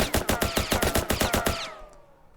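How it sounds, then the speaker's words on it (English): Rapid automatic gunfire from a gun in a Unity game, about a dozen evenly spaced loud shots in a quick burst, then a short ringing tail fading away. "if I move over here and shoot"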